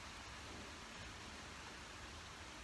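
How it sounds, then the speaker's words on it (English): Heavy rain pours steadily at a lake, a dense, even hiss of falling water that fills the whole stretch without pause, fairly quiet and with no other sounds standing out. "Rain's proper coming down now, that's good."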